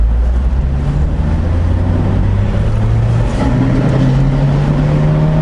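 A Renault 19 Cabrio with a 1.8 engine drones steadily while driving, a loud low engine hum with a slight pitch rise partway through, no voices over it.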